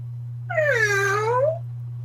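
A single drawn-out cat meow, rising and then falling in pitch, sounds close and clear for about a second over a steady low electrical hum.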